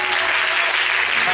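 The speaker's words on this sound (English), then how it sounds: "Come on, clap your hands, all you people." Audience at a church holy convocation clapping hands in a loud, dense, steady wash of applause that fills the short span, close and continuous with no gaps.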